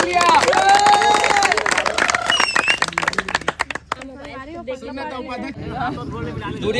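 Applause and cheering from a crowd at a 2022 Milan Samaroh gathering in Raipur: dense clapping with babble and a voice over it for about four seconds, then fading into talk.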